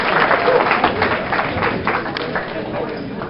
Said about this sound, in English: give yourselves a round of applause for being here and supporting independent journalism